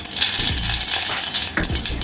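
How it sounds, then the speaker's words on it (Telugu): Mustard seeds sizzling and popping in hot oil in a pan while cooking pumpkin dappalam, a loud, steady crackling fry heard up close with no voices. "ఆయిల్ కూడా వేడైంది కదా, ఇందులో ఒక 1/2 స్పూను ఆవాలు వేసుకుందాము."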